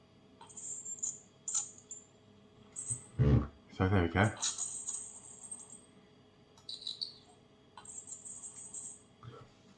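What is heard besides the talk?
Zoccee electric toothpick making a dentist-like sound on teeth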